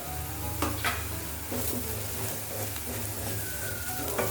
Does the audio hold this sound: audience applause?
no